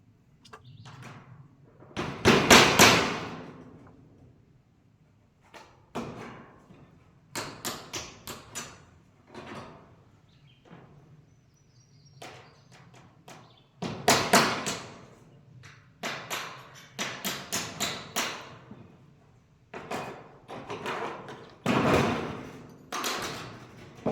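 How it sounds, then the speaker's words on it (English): Nails being hammered into wood for an outdoor shower roof built from pallet boards, loud close hammer blows in irregular clusters, some sharp and some dull thuds, with pauses between bursts. "as I hammer this stuff in."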